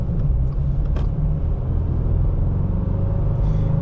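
A 2023 Subaru Crosstrek with a naturally aspirated boxer four-cylinder and six-speed manual drives along, its engine a steady low rumble heard from inside the cabin with no talk.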